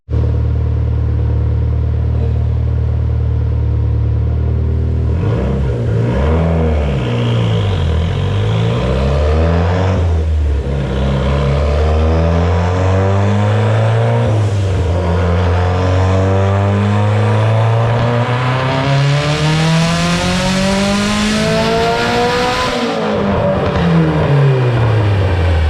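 A turbocharged Mitsubishi Evo X, running a Forced Performance turbo on flex fuel, revs loudly under boost with the tone climbing repeatedly through the gears. The engine note is continuous and close, with no voices.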